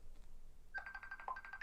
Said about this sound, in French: je ne sais pas pourquoi mon téléphone sonne